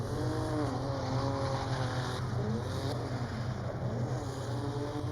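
A drift car's engine at a speedway qualifying session, droning loud and steady with the throttle rising and falling in pitch as it slides.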